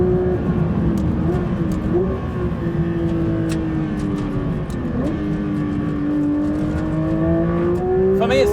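A Porsche GT3 RS Weissach on a race track, its engine howling loud and close, revs climbing steadily in pitch as it powers out of a corner, with a sustained, high-revving drone.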